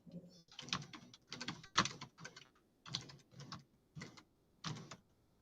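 Bursts of fast keyboard typing on a computer keyboard, close and fairly quiet, in irregular clusters of keystrokes separated by short pauses.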